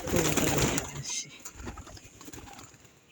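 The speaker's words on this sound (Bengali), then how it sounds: "এই যে দেখো আমার ছোট্ট একটা কবুতরের খোপ আর অল্প কিছু কবুতর আসে" Pigeons at a small home pigeon coop, with soft cooing and bird calls near and fairly faint, a burst of louder sound at the start and then quieter rustling.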